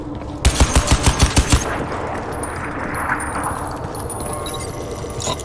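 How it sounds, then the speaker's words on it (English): An ICV turret in the Crysis video game fires a burst of about seven heavy, evenly spaced shots at a security door, followed by a sustained rumbling blast and ringing debris. "You need to blast your way in."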